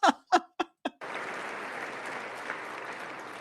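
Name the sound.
applause in Congress at the State of the Union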